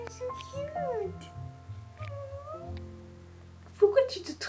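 A cat meows in a series of drawn-out, wavering calls, fairly close, while a voice talks to it over the top, with a brief louder cry toward the end.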